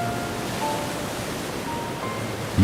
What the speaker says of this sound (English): Myriad waterfalls rejuvenate every inch of the forest